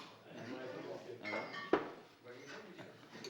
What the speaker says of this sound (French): Maintenant, on va trinquer.